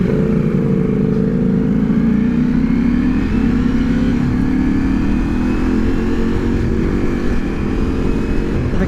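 A 2023 Ducati Multistrada V4 Pikes Peak motorcycle engine revs loudly and steadily up close, its pitch climbing gradually under a constant rumble with no talking.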